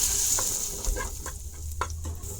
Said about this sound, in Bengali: চামচ বাটার দিচ্ছি এখানে আর এক চামচ ময়দা দিলাম এখানে